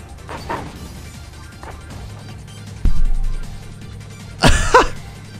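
A car crash in the iRacing sim racing game: a sudden heavy impact lands midway, then a second harsh, scraping crunch follows about two seconds later over a low engine hum.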